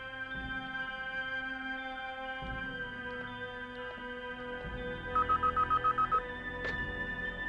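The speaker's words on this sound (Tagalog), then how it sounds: "Cellphone." A cellphone rings with a quick burst of repeated electronic trill pulses over a film's background music, and the phone stays a fairly close foreground sound.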